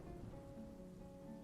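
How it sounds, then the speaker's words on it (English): Rain in the video game Dwarf Fortress, a quiet, steady patter of falling rain with a faint low rumble underneath, heard alone without talk. "Man, it rains a lot here."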